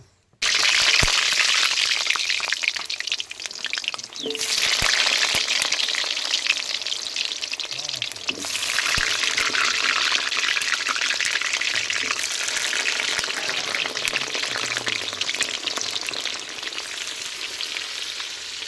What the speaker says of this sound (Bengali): আগে আলু ভাজবো।